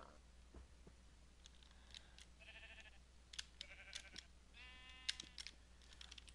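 Sheep in Minecraft bleat several times in short, faint wavering calls spread across a quiet scene, mixed with small clicking sounds.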